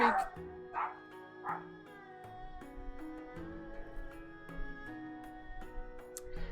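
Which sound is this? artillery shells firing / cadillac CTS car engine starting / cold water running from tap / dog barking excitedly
dog barking excitedly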